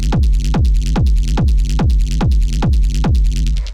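A powerful techno kick drum with a booming low end, pounding steadily at a fast rave tempo, each hit dropping in pitch, loud and alone.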